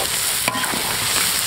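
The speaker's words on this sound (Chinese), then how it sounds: "继续翻炒。" Pork intestines are stir-fried in a wok with chili bean paste and pickled peppers, giving a loud, dense, continuous sizzle with brief scraping tosses of the spatula close by.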